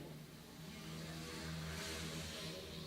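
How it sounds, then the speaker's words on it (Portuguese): A motorcycle passing on a street, a steady mid-pitched engine drone that swells slightly as it goes by, continuous and fairly loud with no talking. "Passou a moto, não entendi."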